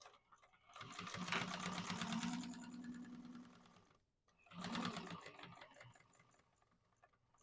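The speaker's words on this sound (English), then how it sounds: "I'm going to chain stitch them again." Sewing machine chain stitching along the finished edges of fabric for a modified Mercury Bag, running in two steady whirring bursts separated by a brief pause, close and fairly quiet.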